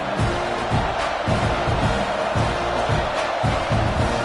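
A stadium crowd cheers steadily throughout a Texas vs Texas A&M college football video game, with a broad continuous roar and a rhythmic swell of chanting or clapping, loud and close.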